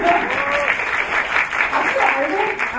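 Dense, steady applause from an audience fills the hall at an art school entrance ceremony, continuous clapping with a voice talking over it.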